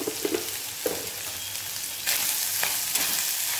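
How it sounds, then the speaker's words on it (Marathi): Vegetables stir-fry in a pan with turmeric and salt, a steady close sizzle broken by a few spatula scrapes and taps, growing louder partway through. "तर सुक्या होईपर्यंत ते परतून घ्यायचं आहे।"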